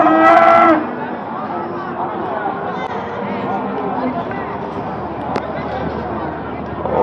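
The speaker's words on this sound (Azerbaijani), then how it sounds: "Görürsünüz də qəşəng sort danalar." Calves mooing at the Barda cattle market, one loud close moo at the start followed by a busy market din of livestock and people talking throughout.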